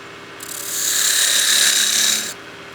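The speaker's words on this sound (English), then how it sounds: "we'll just hit that with some scratch free" Scratch Free polish pressed against a turned wooden snowman oil candle spinning on a lathe gives a steady, hissing rub that swells for about two seconds and then stops abruptly, close and fairly loud.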